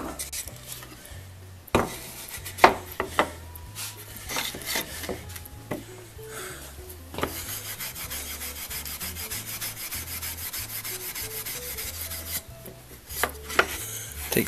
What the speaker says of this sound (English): Just lightly go over it with steel wool. This is 4/0 steel wool.